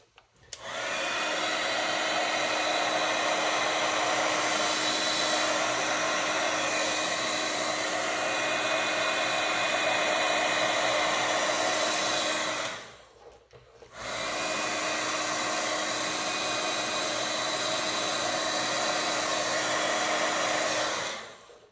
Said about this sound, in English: And then I'm gonna hit it with the heat gun again.